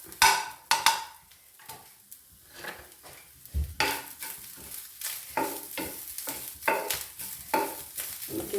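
Grated coconut roasts in hot oil in a pan for a Kerala-style tuna fish pickle, with crackling sizzle broken by irregular scraping stirs of a spoon against the pan, close and fairly loud.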